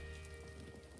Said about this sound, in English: That gentle drip, drip, dripping?